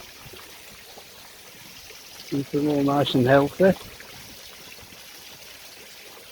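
Water steadily flushing through a reptile enclosure at a site without power, a constant soft running flow, with someone speaking briefly over it.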